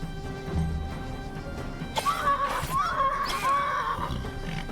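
A horse whinnies in the Wartales video game during a combat ambush, a loud close neigh rising and wavering for about two seconds over low background game noise.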